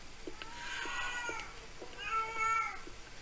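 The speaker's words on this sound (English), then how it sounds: "It's that bloody cat again." Two drawn-out meows from a cat in the horror game Erie, the first longer and the second rising, fairly clear over a faint background hum, with no talk.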